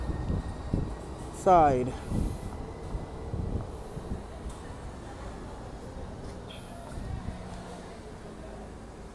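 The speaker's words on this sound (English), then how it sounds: "this is a two-car in Judah train, Caltrain Ballpark, Siemens train" A two-car Siemens Muni N Judah light rail train rolls inbound past 28th Avenue and Judah in San Francisco with a sharp wheel squeal early on, then a fading rumble, while someone talks nearby.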